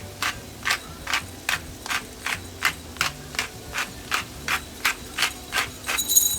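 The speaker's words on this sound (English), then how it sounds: "Using some cracked black pepper." A pepper mill cranks out cracked black pepper over fried corn in rapid, evenly spaced gritty grinding bursts, about two per second, close and crisp without any talk.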